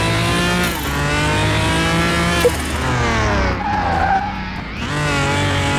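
A fast car is driven hard on a test track: a loud, close engine rises and falls through gear changes, and tires squeal and skid across the run.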